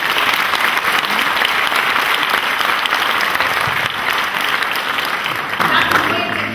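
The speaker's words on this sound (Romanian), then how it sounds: "Merită aplauze." Sustained, loud applause from an audience at a county council session in Bacău, a dense steady wash of clapping lasting throughout with no pause.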